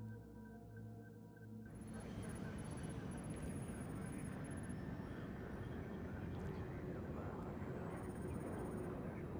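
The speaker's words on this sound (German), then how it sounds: "Hubschrauber am Boden." A helicopter sits on the ground in the stealth video game Splinter Cell: Blacklist, its rotor and engine starting up as a steady, rising mechanical roar that swells in after a quiet start and holds loud and even throughout.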